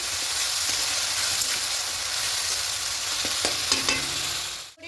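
Ginger, garlic, tomato and onion sauté with salt in a hot pan, a dense, steady sizzle with a few scraping stirs and light clicks near the end before it cuts off abruptly, with no talking.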